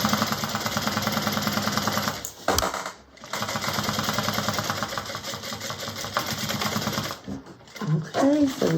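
A sewing machine top stitching a bag, running in a fast steady mechanical whir that pauses briefly twice, with voices talking near the end.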